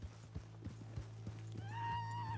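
Horse hooves clip-clop in a steady rhythm in Red Dead Redemption 2, then a loud, drawn-out whinny rises near the end, all close and clear with no talk over it.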